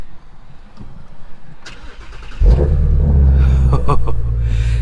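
A Ford Mustang Shelby GT350 engine with sport exhaust cranks and fires up around midway, settling into a loud, deep rumbling idle with a few revs, close by.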